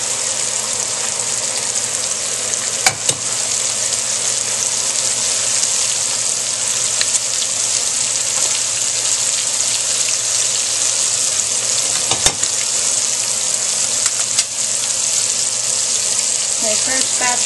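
Chicken pieces deep-frying in hot oil, a dense, loud, continuous sizzle and bubbling hiss throughout, with an occasional faint clink.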